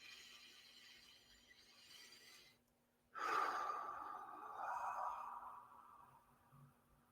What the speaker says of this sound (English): Let's take in 3 deep breaths.